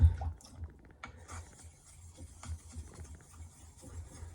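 Soft, repeated rasping strokes of a Hatsukokoro knife blade on a wet King 4000 polishing whetstone, steady and close, with a low hum in the background.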